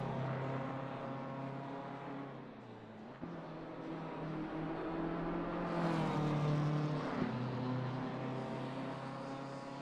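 Race cars, among them a BMW, lapping Watkins Glen during a three-hour endurance race, engines droning steadily with harmonic whine and one car surging louder as it passes near mid-clip.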